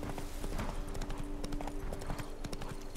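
Horse hooves galloping in the video game The Witcher 3, a rapid, steady clip-clop rhythm close up and continuous throughout.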